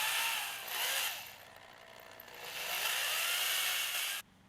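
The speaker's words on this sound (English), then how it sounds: "I then drilled the screw through the top of the stand into the end of the leg" A power drill drives a screw through the top of a DIY wooden paludarium stand into a leg end, its whirring motor rising and falling in two long runs before cutting off abruptly.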